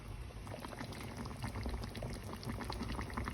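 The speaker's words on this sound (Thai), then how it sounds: "เดือดแล้วนะคะ" Thai pickled bamboo shoot and chicken curry boils steadily in a pot, with a dense, continuous bubbling and gurgling that stays close and fairly loud throughout, with no voices.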